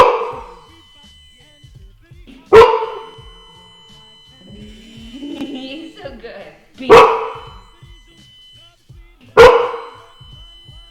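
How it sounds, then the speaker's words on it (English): A dog wearing an e-collar gives three sharp, loud barks spaced several seconds apart, with quiet pauses and some faint movement between them; a person speaks briefly. "we're gonna get him to bark a couple of times just to show you guys exactly how this collar works."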